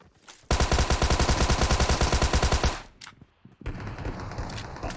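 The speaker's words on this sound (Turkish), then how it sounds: "adamlar bize sıkıyor" A fast, loud burst of automatic gunfire in PUBG Mobile, about two seconds of evenly spaced rapid shots up close, followed by quieter scattered shots and game ambience.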